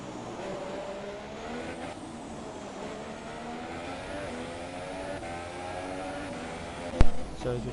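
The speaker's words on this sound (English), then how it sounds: "So we're just waiting for the final cars to come through." F3 race cars from a racing video game passing on the Azerbaijan circuit, a steady layered engine drone with rising and falling tones under faint commentary, ending in a brief sharp burst.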